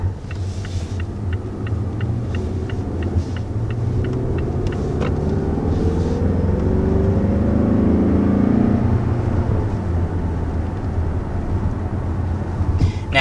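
Turbocharged engine of a 2020 Mazda 6 Signature accelerating, heard from inside the cabin as a steady low rumble that rises gradually in pitch under road noise.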